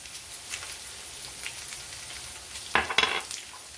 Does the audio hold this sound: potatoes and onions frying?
yes